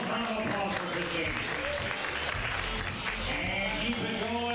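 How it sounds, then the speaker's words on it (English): Comedy show audience at Curious Comedy applauding a performer, a continuous roomful of clapping and cheering heard throughout, with voices talking over part of it. "Now, round of applause for Christine."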